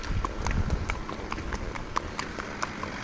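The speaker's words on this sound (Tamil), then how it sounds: "குதிரை சவாரி." Horse hooves clip-clop in a steady walking rhythm during a mountain trail ride in Pahalgam, Kashmir, the close, crisp strikes repeating over soft outdoor background noise with no talking.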